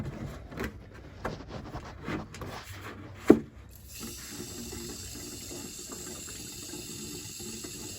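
Transmission flush cleaner drains out of a Buick Grand National into a container, first as irregular splashes and a sharp knock, then settling into a steady trickling stream, close and fairly quiet.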